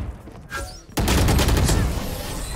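Video game gunfire erupting abruptly into a loud, sustained fusillade of rapid shots after a quieter opening.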